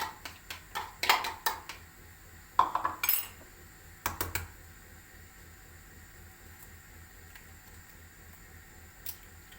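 Two spoonfuls of yogurt go into a pot of tripe soup, heard as a series of close metallic spoon clinks and knocks against the pot, bunched in the first half and then falling to quiet.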